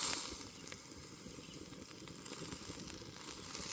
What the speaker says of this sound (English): Still sizzling and cooking.